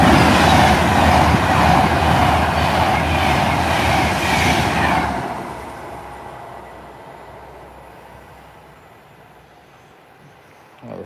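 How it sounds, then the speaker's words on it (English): A Pendolino train bound for Euston rushes past loud and close, then its roar fades quickly into quiet, with a brief knock at the very end. "Yep, that was a pendolino going to Euston"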